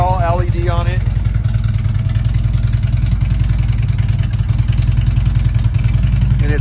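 A Harley motorcycle idles close by with a steady, loud low-pitched rumble that runs the whole time, someone talking over it at the start.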